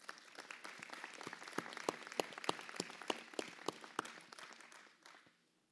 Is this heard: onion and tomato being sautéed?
no